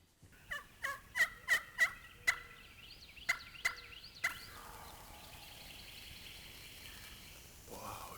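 Wild turkey gobbling from a stand of pines on Georgia public land, a run of loud, sharp gobbles in quick succession followed by a few more spaced calls, then fading into quieter background with faint rustling.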